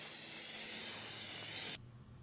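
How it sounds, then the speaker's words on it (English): A can of nonstick cooking spray hisses steadily onto a snow shovel in one continuous close burst, then cuts off abruptly, leaving a faint quiet room tone. "you want to spray your shovel with some nonstick cooking spray to make sure the snow slides"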